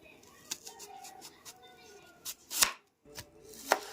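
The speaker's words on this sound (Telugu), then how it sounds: "మనం ఉల్లిపాయనైతే సన్నగా కట్ చేసి పెట్టుకుందాం" Onions being finely chopped with a knife, scattered sharp knife strikes on a board with uneven gaps between them, fairly quiet against faint background noise.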